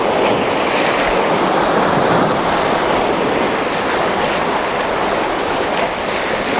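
Sea waves surge in over rocks at Sand Point as the tide rises, producing a steady, loud wash of surf and churning water close by, with no voices.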